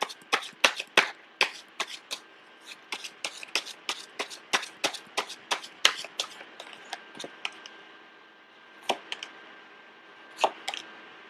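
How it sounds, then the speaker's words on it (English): Tarot cards shuffled close up at home, a quick series of crisp riffling snaps and taps, dense at first, then thinning to a few scattered flicks with quiet pauses. "I was shuffling the cards"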